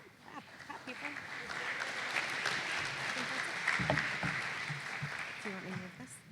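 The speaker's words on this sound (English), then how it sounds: "Great, yeah, clap, people." An audience claps through an evening high school honors awards ceremony at a Lutheran school, moderately loud and steady, with voices and scattered chatter mixed in.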